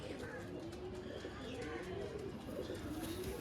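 Pigeons kept by a breeder coo in a steady low rolling pattern, a few overlapping calls close by over a constant background hum, with faint chirps and a brief voice in the mix.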